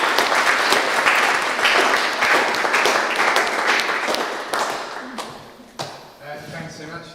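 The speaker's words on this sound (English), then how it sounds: "And applause for yourself and for the others." A workshop audience at a festival claps in a loud burst that thins out and tapers into scattered claps, with some talk mixed in underneath.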